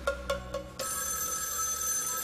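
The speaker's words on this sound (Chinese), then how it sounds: "哎，电话响了，我接个电话啊。" Four quick bell-like telephone rings sound in a rapid rhythm, then give way to a steady background hum, with no voices.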